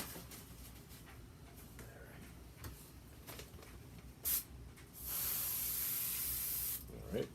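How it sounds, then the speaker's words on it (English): Airbrush spraying paint onto an RC crawler body, a steady close hiss lasting about two seconds after a short earlier burst, over quiet room background. "That thing is spraying just fine."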